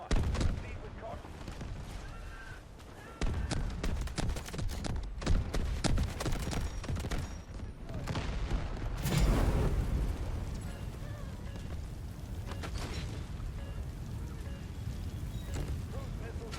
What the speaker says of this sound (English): Cruise missiles inbound. Targets will be neutralized.